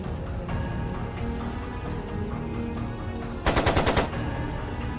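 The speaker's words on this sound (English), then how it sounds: "It sounded like a machine gun." Machine-gun fire in the video game Trails of Cold Steel II, a short rapid burst of shots breaking out near the end over a steady background of game music and ambience.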